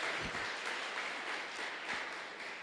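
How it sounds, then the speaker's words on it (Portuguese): A church congregation applauding, a sustained, even wash of many hands clapping at moderate volume with a few louder individual claps standing out. "Você pode aplaudir o Senhor?"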